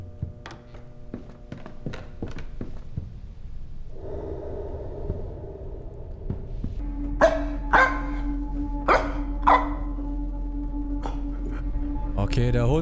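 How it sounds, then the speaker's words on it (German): A dog barks several times in a horror video game, sharp separate barks over eerie ambient game sound and a low hum, while someone talks throughout. "Okay, der Hund ist wieder unterwegs."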